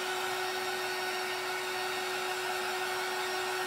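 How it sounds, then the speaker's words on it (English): A small handheld heat tool blows steadily over Mod Podge on a canvas, a constant whirring hiss with a fixed hum tone and no change in level throughout. "I know I love this little heat tool and the iron"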